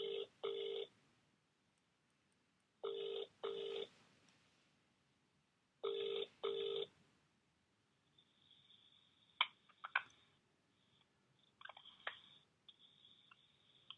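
A phone ringback tone on an outgoing call sounds three times in paired double bursts, clear and evenly spaced. Faint clicks and fragments of noise from the line follow.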